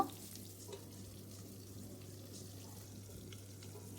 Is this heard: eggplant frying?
yes